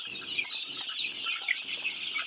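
A dense flock of fourteen-day-old Sonali chicks peeps and cheeps continuously while feeding, high and busy, with soft pecking taps underneath.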